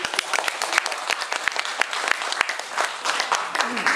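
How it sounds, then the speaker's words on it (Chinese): An audience claps warmly in welcome for a guest speaker at a lecture event, with dense, steady applause punctuated by sharper individual claps throughout. "那我们现在就给他热烈的掌声欢迎他"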